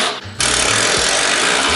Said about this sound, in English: I love any opportunity I get to use my power tools.